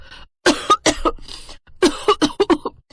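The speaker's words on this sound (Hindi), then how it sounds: "वैसे ही वो मिर्च उसके गले में लगी और उसे तेज खांसी होने लगी" A woman coughs hard and repeatedly from chili caught in her throat, in two close bursts, harsh and loud, with a short pause between them.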